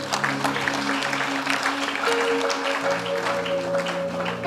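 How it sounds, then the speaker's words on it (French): A church congregation applauds steadily throughout, a dense, loud wash of clapping over sustained organ-like tones. "Acclamez pour l'amour."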